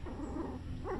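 A dog whimpers and whines softly in short, close, high-pitched cries over a brief moment indoors.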